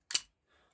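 A single sharp snip as a wire is cut while building Rogers Export monitors, a brief close crisp click with a faint rustle after.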